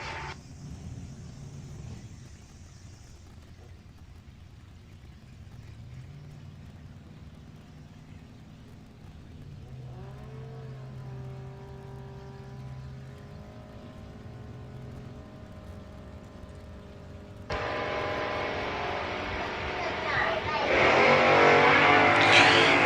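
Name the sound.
drag race launch, Kawasaki motorcycle against 1969 Pontiac Firebird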